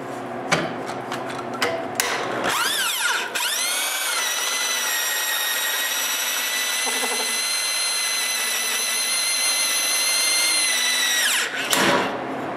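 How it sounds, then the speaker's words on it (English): A steady electric drill whines loudly for several seconds, boring through plywood using a drill guide after a few brief handling knocks, then winds down and stops. "Now with my new guide, I drill my first hole."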